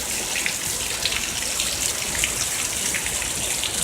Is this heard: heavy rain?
yes